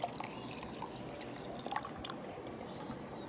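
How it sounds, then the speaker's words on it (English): Water poured into a blender jar over mint leaves, ginger, jeera and amchur powder for mint lemonade, a soft, close trickle with light splashes and drips running throughout, no talking. "and add water"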